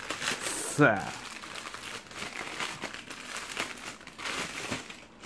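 Plastic packaging around a pair of JBL true wireless earbuds is torn open close by, a sharp rip followed by crinkling and rustling while a person talks over it.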